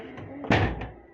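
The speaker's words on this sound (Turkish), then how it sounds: "Kapatamadım kapı." A bus door closing in a bus simulator video game, a single solid thunk landing halfway through, fairly close, with faint background game noise before and after.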